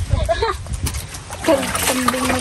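Water splashes and sloshes from a newly dug deep well, a wet splattering burst that comes and goes over about two seconds, close by, with people talking over it.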